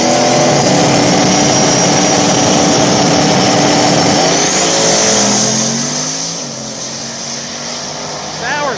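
Two 5.30 outlaw small-tire drag cars launch side by side at Mooresville, engines roaring loud and close, then pitching up through gear changes and fading down the strip, with an announcer's voice over them.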